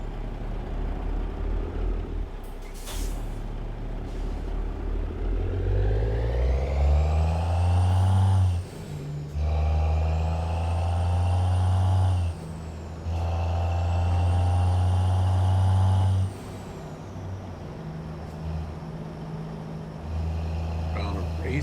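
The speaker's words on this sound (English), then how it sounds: "Their dump truck." A dump truck rolls by at night, its heavy engine rising in pitch as it pulls away, while loud sustained tonal sweeps and hiss from the air brakes cycle several times close by, with people talking over it.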